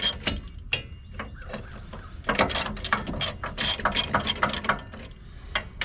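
A hand ratchet clicks rapidly in bursts while loosening the front wheel hub bolts on a 2009 Hemi Ram 1500 2WD during a hub bearing replacement, close and clear, with metallic clatter and no talk.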